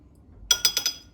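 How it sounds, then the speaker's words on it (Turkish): A metal spoon stirs grape molasses and water in a plate, giving four quick, bright clinks in close succession after a moment of silence. "Güzelce karıştırıyorum."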